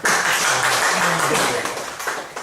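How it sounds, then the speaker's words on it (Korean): A lecture hall audience breaks into steady, dense applause that lasts a couple of seconds, with a voice faintly underneath. "네, 박수 한번 주시죠."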